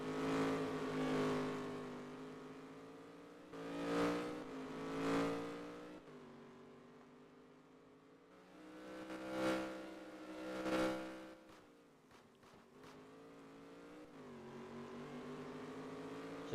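Race cars in an Italian GP racing video game roar past in repeated close passes, each a loud surging whoosh over a continuous engine drone, with quieter gaps between them.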